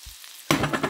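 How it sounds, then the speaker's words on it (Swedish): Red and green bell peppers hit a hot wok of browned chorizo slices: a quiet pause, then a sudden loud sizzle that keeps crackling and hissing. "Och nu häller jag i röd och grön paprika."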